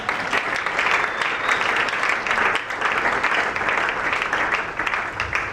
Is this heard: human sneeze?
no